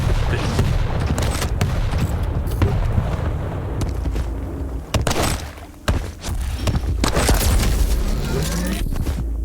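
Rockets and weapons fire in Quake during a World Championship duel between coollerz and Av3k, with loud booming blasts and thuds over a constant low game rumble, under a commentator's steady talk.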